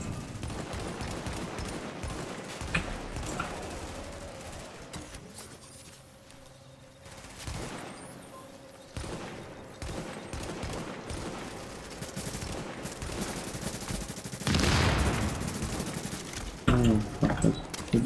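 Bursts of AK assault rifle gunfire in the video game The Division, loud and irregular over a long stretch with busy game noise and a voice talking over parts of it.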